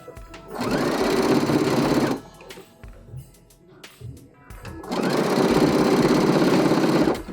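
A sewing machine stitches picot elastic onto fleece slippers in two loud, steady whirring bursts, separated by a quieter pause with light handling noise.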